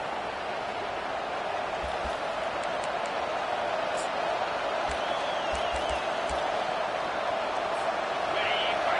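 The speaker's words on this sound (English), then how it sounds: "This crowd bringing the energy and noise early." A big football stadium crowd roars in a steady, wide wash of cheering and noise, far-off and continuous, with faint whistles and thumps mixed in.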